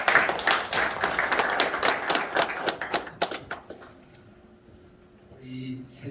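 Audience members at a general assembly clap for a speaker coming forward, a brisk burst of claps that fades out by midway, leaving a quiet room with faint hum and a brief murmur of voices near the end.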